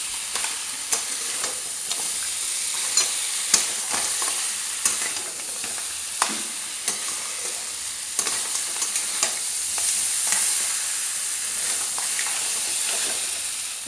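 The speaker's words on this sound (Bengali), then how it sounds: "এবার কাঁকড়াগুলো দিয়ে দেবো, দিয়ে খুব ভালো করে একসাথে কষে নেব।" Sea crabs being stir-fried with spice paste in a pan, a continuous sizzling hiss punctuated by scraping and knocking of the spatula as the pieces are turned over and tossed.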